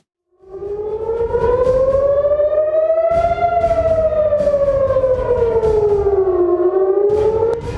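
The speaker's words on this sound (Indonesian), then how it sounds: "Sirine serangan udara berbunyi di seluruh penjuru Tel Aviv saat rudal balistik Iran melintas di langit" An air raid siren wails across Tel Aviv during an Iranian ballistic missile attack, its loud tone rising and falling in long slow sweeps, starting abruptly and carrying on continuously with no voices.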